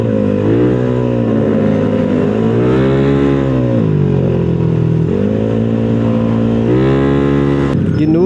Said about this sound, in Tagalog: Yung mga Mio na to, dahil sobrang gaan nila, no, ang bilis umalis